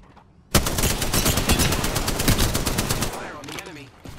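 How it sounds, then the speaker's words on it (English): Rapid automatic gunfire from a Pathfinder's light machine gun in Apex Legends, a loud sustained burst of evenly spaced shots lasting about two and a half seconds, then fading into quieter game sounds. "Getting shot at."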